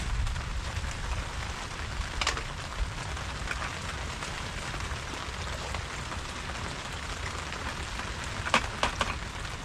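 Steady rain patters across the whole stretch, a dense even hiss with a few sharper drops landing close by, no talking.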